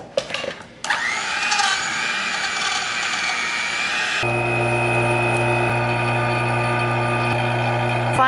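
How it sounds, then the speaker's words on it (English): A vacuum pump degasses a plaster-filled casting flask for custom grillz, kicking in partway through with a loud, steady mechanical drone and hum that holds unbroken to the end, following a brief clatter and hiss. "Final step is vacuuming in the flask for 2 minutes."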